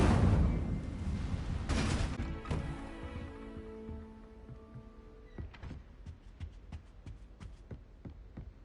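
The Incendio fire spell cast in Hogwarts Legacy: a loud whooshing burst at first, then ringing tonal shimmer that fades, followed by a string of sharp, crackling pops tapering off at moderate volume.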